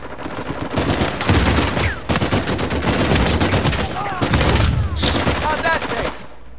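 Sustained gunfire in Uncharted 4 multiplayer: near-continuous loud automatic bursts over several seconds with short breaks, while game effects and faint chatter sit underneath.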